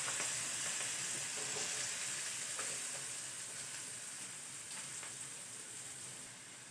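Onions frying in hot oil with mustard seeds, cumin and turmeric, a loud, steady sizzle close by that fades slightly toward the end, with faint stirring scrapes and no talk.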